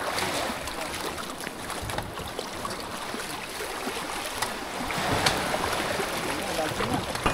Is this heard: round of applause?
no